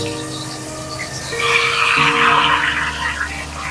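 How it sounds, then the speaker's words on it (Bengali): Fish heads dropped into hot oil in a wok over a low gas flame set off a sudden burst of loud, bubbling sizzle that swells and then slowly settles. "তেলটা কড়াইতে তেল দিয়েছি, তেলটা গরম হয়ে গেছে। আমি কিন্তু গ্যাসটাকে লো করে দিয়েছি, দিয়ে এবার মাছের মাথাগুলো আমি ছেড়ে দিচ্ছি।"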